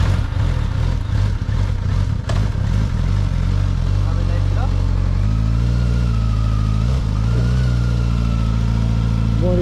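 Suzuki GSX-S 1000 motorcycle running on E85 ethanol, its engine droning steadily on the road with shifting pitch under continuous wind rush, and a voice speaking over it.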